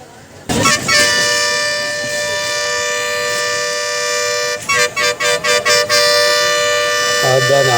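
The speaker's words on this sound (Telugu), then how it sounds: "ఎక్కడికైనా వస్తుందో ట్రైన్ అని అంత హారన్ కొడుతుండ్రు, అంత స్పీడ్ వస్తుంది హారన్ గిట" A small amusement train at a hilltop fair sounds its loud, close horn, first one long sustained blast, then a run of short rapid toots, then another brief blast.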